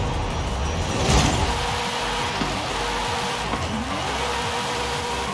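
A 1000-horsepower front-wheel-drive drag Honda Civic with a drift transmission revs and accelerates, a steady mid-pitched engine drone with a brief louder swell early on, heard alone without talk.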